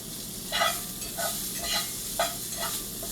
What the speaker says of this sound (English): let me let these asparagus cook